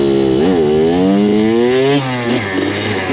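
A Kawasaki KX100 two-stroke dirt bike climbs a hill, its engine loud and close, revving up, briefly dipping, then rising again in a rasping, buzzy whine.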